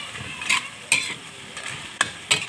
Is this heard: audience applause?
no